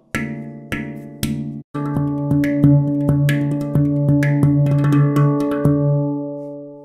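Handpan played on its rim: three sharp, bright taps, then a run of quicker rim strikes layered over a sustained, ringing tonal hum of the steel shell, loud and close with no voices, fading at the end.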